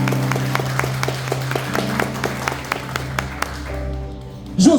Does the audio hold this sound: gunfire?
no